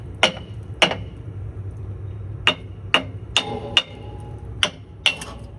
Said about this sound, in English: I'm just gonna smack this with a hammer